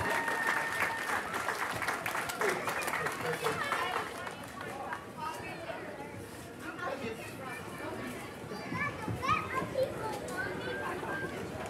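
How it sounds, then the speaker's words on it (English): Outdoor crowd at a Memory Days parade in Veterans Park, Grayson, Kentucky, clapping for flag bearers, with applause fading into busy chatter and children's voices around it. "Big round of applause."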